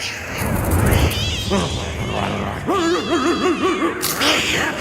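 A cat in a Family Guy cartoon meows loudly several times, its rising and falling yowls carrying over busy cartoon background sound and faint talk.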